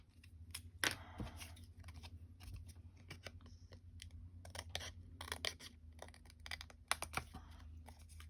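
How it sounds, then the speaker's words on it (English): Scissors snipping through handmade cards, a few sharp close cuts scattered among soft rustling and handling noises at a quiet level. "Now we can cut them down."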